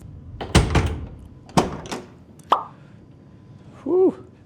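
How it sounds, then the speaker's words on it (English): Door latch on a 1968 Chevrolet K10 shortbed pickup releasing, heard as a few sharp close clicks and clunks with a brief metallic ring, then a short creak. "nice, good release on the door latch"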